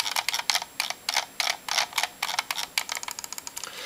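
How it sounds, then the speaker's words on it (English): A Microsoft Intellimouse Optical scroll wheel is rolled up close, making a rapid series of clicky, ratcheting ticks in bursts. The ticks speed into a fast, dense run near the end, with no talking. "the scroll wheel on this mouse is pretty loud as well."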